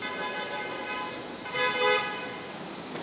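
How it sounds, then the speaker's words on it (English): A car horn toots a couple of times at a distance, faint against the low background hum of traffic. "Who's honking?"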